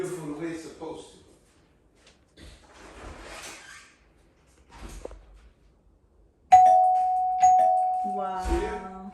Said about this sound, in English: I'm gonna go ring the doorbell and watch it sound beautiful the way it's supposed to